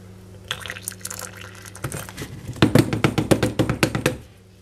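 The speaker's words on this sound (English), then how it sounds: "Give it a bit of shake around, get some of that water down." Water sloshed around inside a plastic yoghurt container, a series of sharp rhythmic splashes and knocks building toward the middle and end, close and fairly loud, then stopping abruptly.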